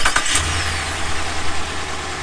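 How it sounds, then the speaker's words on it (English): A RAM 1500 truck with a 5.7L HEMI V8 cranks with a few quick bursts, then settles into a steady, low, rumbling idle close by, with no voices. "we're going to start the truck up and then he's going to check for leaks real quick."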